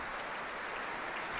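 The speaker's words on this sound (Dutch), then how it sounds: "Dat applaus, dat is voor Petra Botma-Zijlstra die die prachtige hoornsolo's speelde" An orchestra concert audience applauds after horn solos in an orchestral Wagner Ring arrangement, a steady wash of many hands clapping in a large hall, even and sustained, heard from a distance without speech.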